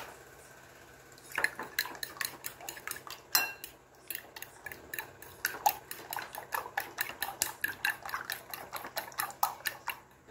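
A fork beats two eggs in a bowl for rice patties, a rapid run of sharp metallic clicks and taps that quickens and carries on steadily up close, with no talking.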